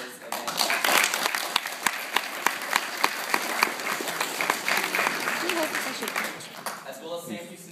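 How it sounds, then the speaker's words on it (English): Sustained audience applause at a debate championship, dense clapping with a few sharp claps standing out, holding for several seconds before thinning near the end, with a speaker's voice over it. "give a big round of applause for the IPDA for making this event possible"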